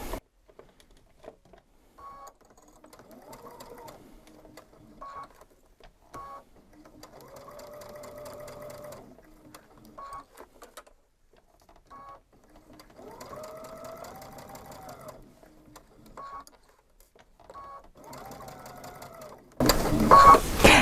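A sewing machine stitches fabric around curves in several separate bursts, each a whirring run of a few seconds between pauses with short clicks and beeps, fairly close and quiet, ending in a sudden loud noise.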